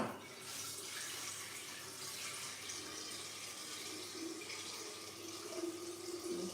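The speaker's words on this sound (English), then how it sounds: "So I'm going to change my water in there." Tap water running into a flower vase to refresh the water for a rose arrangement, a continuous splashing, filling stream at moderate distance with a faint shift in pitch as it fills.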